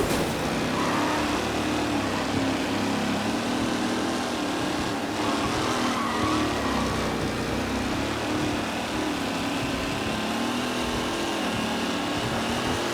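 Race cars in Mafia: Definitive Edition roar along a track in a steady, loud blend of engine whine and drone that holds throughout with no talking.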